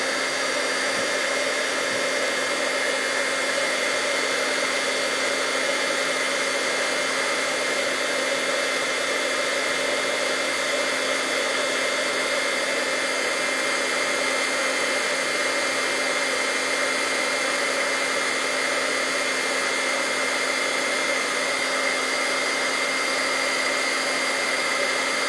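A heat gun melts embossing powder on a handmade gift tag, giving a steady, loud blower whine and hiss with a faint fixed hum. The sound runs unbroken and close throughout, with no talking.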